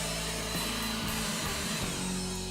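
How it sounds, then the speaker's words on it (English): A Looftlighter hot-air blower clears loose ash from charcoal in a grill, making a steady, loud broadband rush of air that holds evenly throughout with no voices. "We're just going to blow some of the ash off with a loofah lighter."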